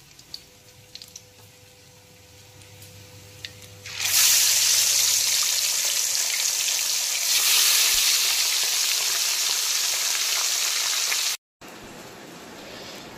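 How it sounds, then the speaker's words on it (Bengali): Pomfret fish frying in hot oil, a loud, close, continuous sizzle that starts abruptly after a quiet stretch with faint trickling, holds steady for several seconds, then cuts off briefly and resumes softer. "বাকি মাছগুলোকেও একইভাবে ভেজে তুলে নেব"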